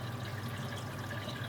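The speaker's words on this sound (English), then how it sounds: "we'll start with the water coming from the tank and into the sump." Water draining from a roughly 95-gallon aquarium tank down into the sump below, a faint, steady trickling rush with no breaks or other sounds.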